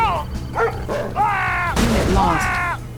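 Attack dogs barking in the strategy game Yuri's Revenge, a few sharp yips and barks mixed with game voices and effects, loud and close.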